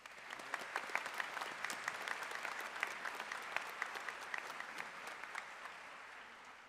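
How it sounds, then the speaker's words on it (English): A small crowd at a college graduation ceremony claps steadily for several seconds, a dense patter of applause at moderate volume that tapers off slightly at the end. "A brief applause if possible."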